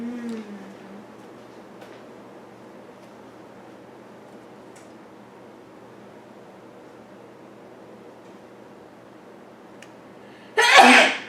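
After a long stretch of near-silent room tone during a tabletop board game session, one loud, sharp sneeze bursts out close to the microphone near the end.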